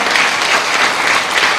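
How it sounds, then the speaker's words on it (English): A political rally crowd applauds steadily, a dense wash of clapping hands that holds at an even, loud level throughout with no voices standing out. "give a lusty round of applause to your MP"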